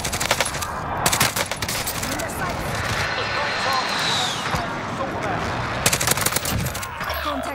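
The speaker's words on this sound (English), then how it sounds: "Friendly sentry gun online." Automated sentry gun in a first-person shooter game, firing rapid bursts of gunfire that come and go over a steady drone of battle noise and engine hum, mostly fairly loud and close.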